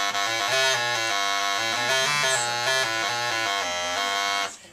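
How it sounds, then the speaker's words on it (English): A bass krumhorn, a capped double-reed Renaissance instrument, plays solo in a live performance, a buzzy, nasal, reedy melody of steady notes, close and clear before cutting off. "And this is the bass Krumm horn."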